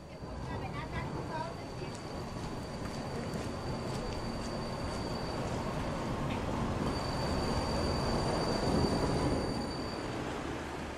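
A Vienna tram on line 60 rounds the Unter St. Veit terminal loop, a continuous rolling rumble with thin, sustained wheel-squeal tones rising over it; a voice can be made out in the background.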